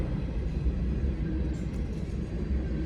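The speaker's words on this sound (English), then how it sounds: "it shouldn't surprise you to see there's yet another train." Deep, steady rumble of a train going by, a continuous low roar throughout with no voices.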